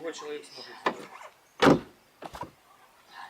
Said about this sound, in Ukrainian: І відкриваємо дверцята.